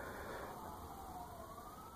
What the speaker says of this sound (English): Wow, a lot of sirens.